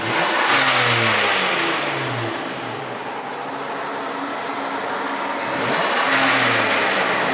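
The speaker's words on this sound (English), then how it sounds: "And now we let it idle for about another 5-10 minutes." A Kia car engine idles during a transmission fluid change and service, its steady close drone rising briefly at the start and again near the end.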